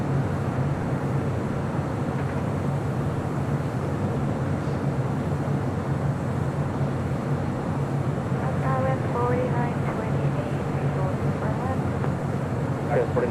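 A Lufthansa Boeing 747 airliner heading to Frankfurt on a north side departure from LAX makes a continuous broadband roar, with a voice talking over it.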